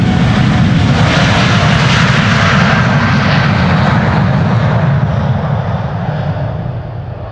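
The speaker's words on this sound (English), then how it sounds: "It does look like the 777 is making that left-hand turn now." A Boeing 777 jet taxis and turns at Amsterdam Schiphol Airport, its engines giving a loud, steady, broadband roar that holds throughout and eases slightly toward the end.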